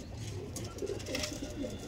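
Rampuri pigeons coo softly in a low, throaty rolling rhythm, several overlapping calls close by against a steady background murmur.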